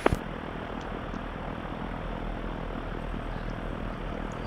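In X-Plane 11, an aircraft engine roars steadily at takeoff power on the runway, a dense, even rumble following a brief sharp click at the start.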